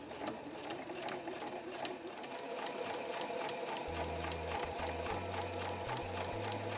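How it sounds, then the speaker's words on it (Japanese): Sewing machine stitches around the edge of a fabric drawstring pouch made from selvedge scraps, its steady motor hum starting partway in and running in short bursts with brief pauses, close and clear. "そしたら周囲をぐるっと縫います。"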